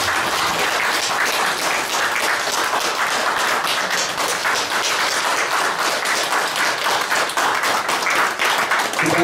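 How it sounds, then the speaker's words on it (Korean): Sustained applause from an audience at a book launch event, a dense, steady wash of many hands clapping at close range, alone with no talk and holding an even level throughout. "이 점에 대해서 우리가 존경으로 박수 한번 드리도록 하겠습니다"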